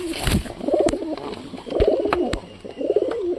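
Pigeons coo in repeated soft, throaty phrases, three main bursts close by, with a few faint clicks between them and no talking.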